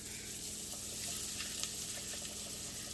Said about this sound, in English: Time to drop the shrimp.